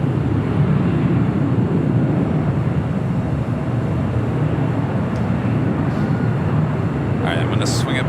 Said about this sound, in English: that Korean Air Cargo 777 freighter. Next arrival on 25 left.